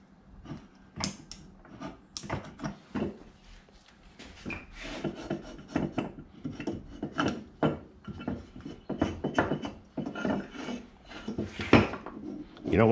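A razor blade scrapes an aluminum top-end part from a Campbell Hausfeld HL431500 air compressor being refurbished, making repeated close, rasping strokes in an irregular rhythm with small metallic knocks between them.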